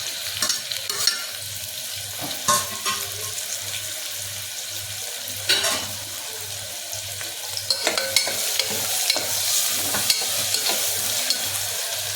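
Garlic fries in a pan for a mutton dish, a steady close sizzle broken by repeated stirring scrapes and spoon clicks over a low hum, with no talking.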